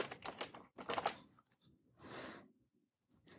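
A name typed on a computer keyboard in a quiet room: quick bursts of close, crisp key clicks separated by short pauses, ending with a few isolated taps.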